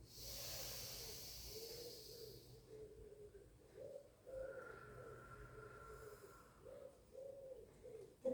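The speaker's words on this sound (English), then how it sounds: "The birds are very vocal this morning, aren't they?" Morning birds call outside, with a dove cooing in soft repeated low phrases and a brief higher call in the middle, faint and steady over a quiet hissing background.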